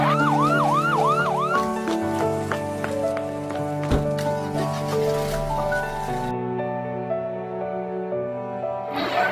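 An ambulance siren in the mobile game Sakura School Simulator, during a rainy-day story scene, wails in a few quick rising-falling sweeps at the start before fading under steady background music.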